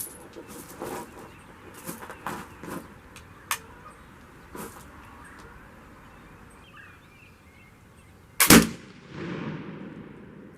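A flintlock trade gun fires a Skycheif shot load at an angle toward a sand mound, one sharp loud blast near the end after several small clicks and handling noises, followed by a brief fading echo.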